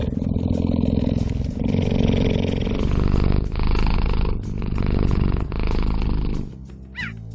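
A cheetah's deep, rumbling purr, close and loud, pulsing in long rhythmic waves with breaths between them, ending with a brief higher chirp-like sound.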